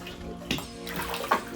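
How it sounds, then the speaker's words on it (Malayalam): Water wells up and splashes from an ancient underground spring at a high mountain temple, a close, steady gurgling flow with small splashy surges. "വെള്ളം ഓട്ടോമാറ്റിക്കലി അടിയിൽ നിന്ന് വന്നുകൊണ്ടിരിക്കുകയാണ്."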